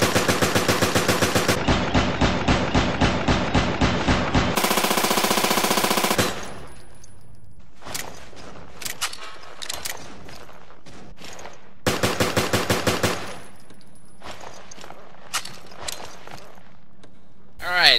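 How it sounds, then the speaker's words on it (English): Rapid automatic fire from an AUG assault rifle in Resident Evil: Revelations, loud sustained bursts at the start and again in the middle, separated by quieter stretches of clicks and faint ambient game sounds. "So the AUG fires at the same rate as the MP5, slightly faster reload animation"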